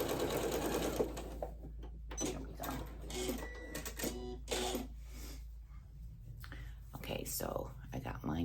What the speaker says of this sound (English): now we're gonna sew up our opening